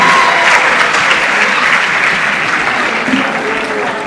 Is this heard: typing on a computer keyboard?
no